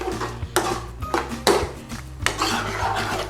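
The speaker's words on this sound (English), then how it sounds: "put our coriander in there. Stir it all around" Coriander being stirred into chicken curry in a pan, a spoon scraping and rubbing against the pan in uneven strokes with light clinks, close and moderately loud over a low steady hum.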